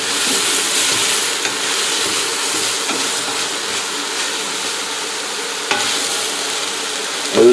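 Vegetables for a colorful noodle soup sweat in a pot, giving off a steady, dense sizzle at close range with a few faint clinks of stirring and no voices.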